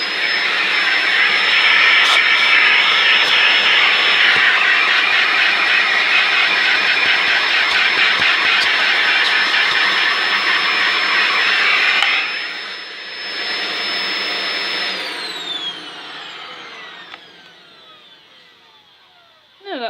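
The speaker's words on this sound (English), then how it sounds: "I'm going to pop Dyson DC04 on for one last time just to clean this brush out" A Dyson DC04 vacuum cleaner roars loudly and steadily up close while cleaning out a brush, then cuts off and its motor whine winds down over several seconds.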